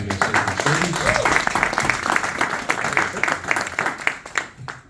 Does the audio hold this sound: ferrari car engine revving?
no